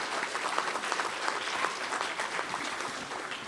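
Banquet audience at a racing awards dinner clapping for sponsors, a dense, steady round of applause from a large crowd that holds evenly throughout.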